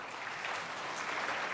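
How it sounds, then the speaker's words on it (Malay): An audience at a final speech competition applauding after a student's speech: steady, even clapping from many hands, moderately distant and continuous throughout, with no talk. "Mari kita berikan satu lagi tepukan gemuruh kepada adik Muhammad Faizal"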